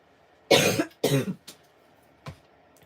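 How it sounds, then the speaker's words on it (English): Two loud, close coughs follow one another, then come a short throat sound and a softer final cough after a pause, all against a quiet indoor background with no speech. "YouTube does not hide your coughs."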